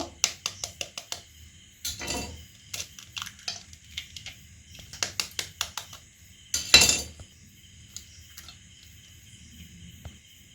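Two eggs are cracked for a chicken cutlet coating with several light taps and clinks against a bowl, the sharpest crack standing out, amid quiet kitchen handling with long pauses.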